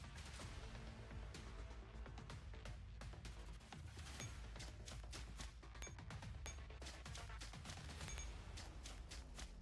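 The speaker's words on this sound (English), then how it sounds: "this is the autocannon" Rapid autocannon fire in the Girls Frontline "Slow Shock" event, a continuous run of sharp overlapping bursts and cracks, faint and distant-sounding throughout with no voices.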